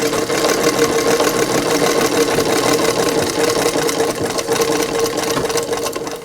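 A sewing machine runs in a steady, fast mechanical hum and rattle as it stitches a row around a shirt neckline, loud and close throughout with no talking.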